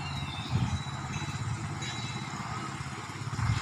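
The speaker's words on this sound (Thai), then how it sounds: "ได้ยินเสียงเรือไหมคะนี่เสียงเรือนะคะ" A low, steady engine drone chugs throughout, with slight surges in loudness, a motorboat running nearby on a canal.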